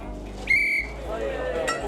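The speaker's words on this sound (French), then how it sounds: "il faut attendre patiemment le coup de sifflet" A referee-style whistle blows once at the opening of a truffle market in south-west France, a sharp shrill blast lasting about a third of a second over crowd murmur, with a fainter second tone near the end.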